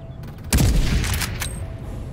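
Gunfire in the Free Fire battle royale game, one sharp loud burst of shots with a booming tail that fades over the next second and a half.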